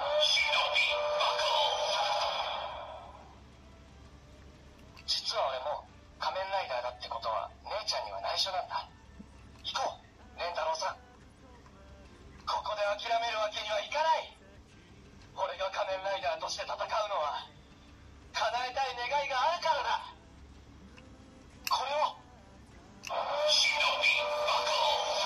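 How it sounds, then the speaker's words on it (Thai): Short bursts of an electronic voice from a small speaker in a Kamen Rider DX Shinobi Raise Buckle toy belt, several separate phrases with pauses between them, thin and slightly tinny. "นี่ก็จะเป็นเสียงพูดทั้งหมดที่ให้มาในเจ้าตัวนี้"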